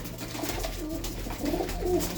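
A pigeon coos in a few soft, low throaty bursts close by, over a quiet background of rustling and faint ambient noise.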